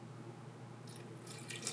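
Cold water pours into a pizza dough mix of flour and salt in a mixer bowl, a soft, faint trickle that swells into a brief splash near the end.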